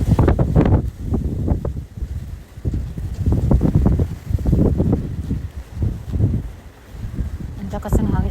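Strong wind by a highway buffets the microphone in deep, gusting rumbles, heavy and close throughout, while someone talks over it.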